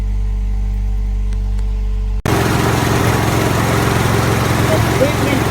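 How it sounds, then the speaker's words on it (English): A lawn mower engine, brought back to life from a completely dead battery by a jump starter battery pack, catches suddenly and then runs at a steady, loud drone. "this charger I bought jump started the lawnmower within 2 seconds"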